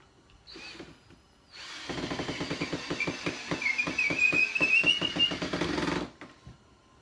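A power drill drives screws into wooden bar stools in a single sustained run of about four seconds, whirring with a rhythmic pulsing as the screw bites, close and loud, bracketed by brief quiet handling.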